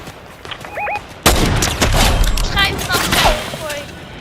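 Sniper gunfire in Fortnite: a loud shot lands partway through, followed by dense game-battle noise and more cracks, with faint electronic tones just before it.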